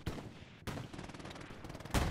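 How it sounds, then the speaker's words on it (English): Artillery fire in the WWII shooter Hell Let Loose: two sharp, loud blasts about a second apart, with distant crackling gunfire between them. "Artillery's inbound."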